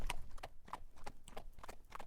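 A prince's horse clops along at a walking pace, with steady, evenly spaced hoofbeats that ring clearly at moderate volume, close by.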